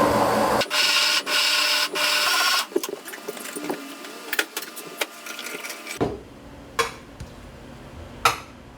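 A kitchen blender grinds kimchi seasoning and broth in bursts, loud whirring runs cut by pauses, followed by quieter clinks and knocks of utensils and bowls.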